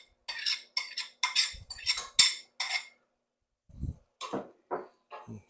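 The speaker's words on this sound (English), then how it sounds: "Stir that around." A spoon stirs ground beef and onion in a pot for lasagna, giving a series of close metallic scrapes and clinks in short bursts, a pause, then a few softer strokes.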